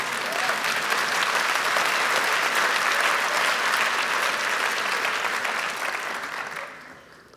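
A church congregation applauds loudly and steadily for several seconds, a dense wash of clapping that fades out toward the end.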